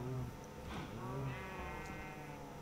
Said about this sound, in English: I got some sheep over here.